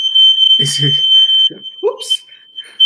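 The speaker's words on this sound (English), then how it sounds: "that is my smoke alarm." A home smoke alarm gives a piercing, continuous high beep through the whole moment while a person speaks briefly over it.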